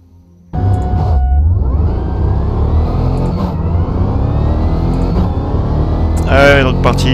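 Mercedes-AMG race car in Automobilista 2 roars to life at WWT Raceway, its loud engine climbing steadily through the revs and holding a sustained high drone, with brief shifts and a harsh flare near the end; no one speaks.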